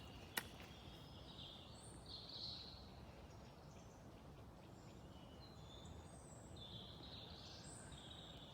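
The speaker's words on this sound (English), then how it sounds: "Listen to the birds." Faint birdsong drifts in from a distance, scattered chirps and short phrases over a soft outdoor hiss.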